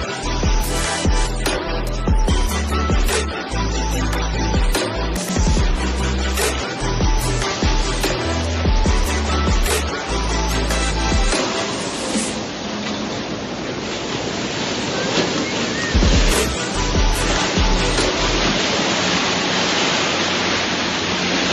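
Continuous, loud roar of breaking ocean waves at a Honolulu beach on Oahu, Hawaii, the surf surging and receding with gusty wind rumbling against the microphone.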